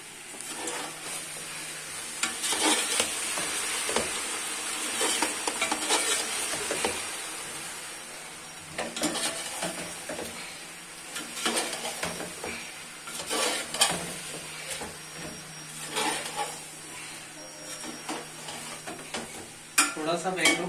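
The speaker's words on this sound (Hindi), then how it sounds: "थोड़ा सा बैंगनों को भूनेंगे" Eggplant pieces fry in a pan for a Pakistani vegetable pulao, a continuous sizzle broken by frequent spoon stirs and clinks against the pot; faint voices are heard now and then.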